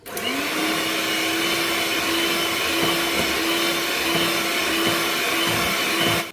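Electric mixer beating sugar with tinned condensed milk for an eggless date cake batter, a steady whirring drone that holds even and loud for about six seconds, close up with no talking.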